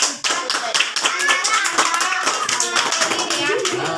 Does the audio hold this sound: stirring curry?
no